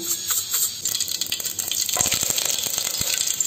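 Mustard seeds spluttering in hot oil for a bisibelebath tempering, a dense crackling sizzle with sharp pops that thicken and grow louder partway through, close and steady with no talk.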